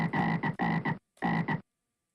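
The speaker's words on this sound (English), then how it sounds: "That frog movement sound is severe." Frog movement effect from a Frogger-like video game: three short, buzzy croaking blips, two in quick succession and one after a brief gap, crisp and synthetic, alone with no talk.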